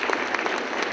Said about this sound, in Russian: Я думаю, что действительно аплодисменты сегодня угасать не будут.